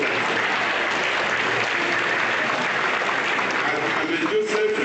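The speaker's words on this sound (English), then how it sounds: "Please give my own people a round of applause." A large audience claps steadily and loudly throughout, a dense wash of applause filling a university convocation and founders' day ceremony hall.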